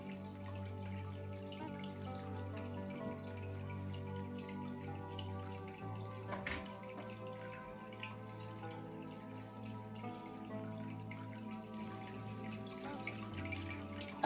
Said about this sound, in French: si tu n'as pas envie d'entendre des glouglous, et ben il aurait fallu que ça ne tombe pas sur la cascade